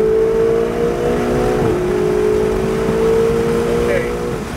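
A Ferrari 488 accelerates on the Pacific Raceways track in Kent, Washington, its engine tone holding steady, then dipping and climbing again, heard from inside the car.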